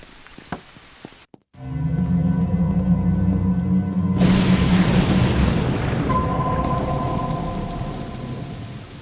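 A heavy rainstorm begins after a brief near-silence with a loud crack and rolling rumble of thunder, then a steady roar of heavy rain pounding surfaces swells and continues to the end, with no talking.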